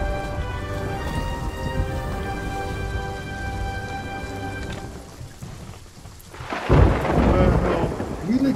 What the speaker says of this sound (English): You legit get struck by lightning?